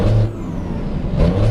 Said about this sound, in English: I had the revs too high then.